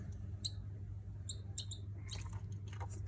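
A one-month-old pet baby bird gives short, high chirps in a few quick bursts, followed by soft clicky pecking and chewing sounds as it is fed, over a low steady hum.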